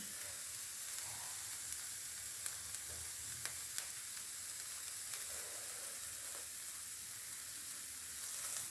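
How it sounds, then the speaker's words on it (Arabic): Veal kebabs on skewers over a charcoal grill sizzle and hiss steadily, with scattered sharp crackles and pops from the fat, close up and with no one talking. "ايوا نشويه هنايا في الدروج"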